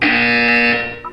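A continuous electronic buzzer from the video game Portal 2 sounds loud and steady for about a second, then cuts off into a brief higher tone.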